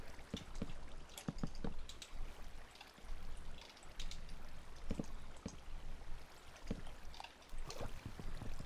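Flowing water in a block-building video game gives a steady trickling wash with scattered small clicks and splashes, moderately loud and continuous throughout.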